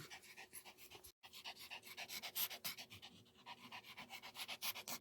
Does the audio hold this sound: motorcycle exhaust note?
no